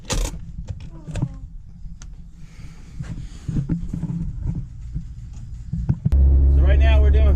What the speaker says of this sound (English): So right now we're doing figure eights to try and warm up this clutch.